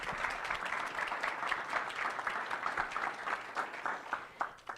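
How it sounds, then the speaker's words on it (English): Audience applause at a restaurant expo sponsorship presentation in Lake County, a steady patter of many hands clapping at moderate distance, thinning out toward the end. "So let's give a round of applause for"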